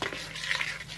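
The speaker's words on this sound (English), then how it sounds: "Stir it together" A spoon works chopped baked eggs into a mayonnaise mixture for bacon and egg salad, giving soft, close, wet squelching and light scraping against a bowl over one short stroke.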